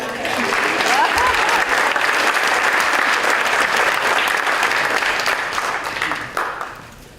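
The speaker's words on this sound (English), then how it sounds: "You guys can clap." Audience at a technical education awards ceremony clapping steadily for about six seconds, a dense sustained wash of applause that tapers off near the end.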